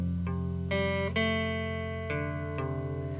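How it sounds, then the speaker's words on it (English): A single electric guitar plays the second riff of a song, a handful of ringing plucked notes and chords struck one after another with sustain between them, clear and alone. "So that second riff sounds like this."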